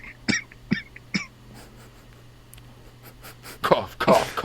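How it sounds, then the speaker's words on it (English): Three sharp coughs come close together, followed by a quieter pause and then rougher, louder coughing and throat noise at the end. "Cough, cough, cough, cough, cough."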